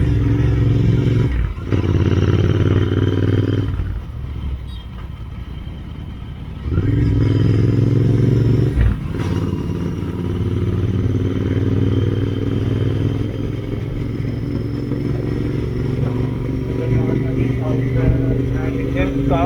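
Superbikes including a Suzuki Hayabusa and an Indian Scout riding at night, a steady loud engine drone with brief dips and rises in throttle, continuous throughout with a voice talking over it.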